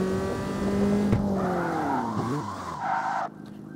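A car drifts in the CarX Street racing game, its engine droning loudly beneath long, sweeping tire squeals that bend in pitch. The skid fades and the sound cuts off abruptly near the end.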